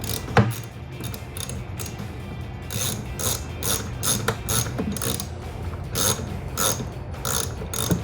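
A hose clamp is tightened on an S&B cold air intake filter fitted to a 2018-2020 Ford F150 3.5L EcoBoost, with a steady stream of rapid ratcheting clicks in close, continuous runs for several seconds and no speech.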